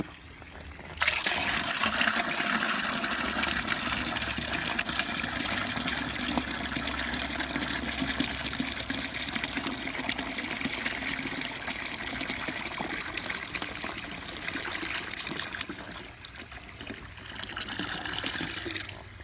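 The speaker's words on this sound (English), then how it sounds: "when I've almost poured all the grape juice out of the box" Grape juice from a wine kit box pouring steadily into a container, a continuous gushing, trickling stream that runs for nearly twenty seconds and thins briefly before resuming, with no talking.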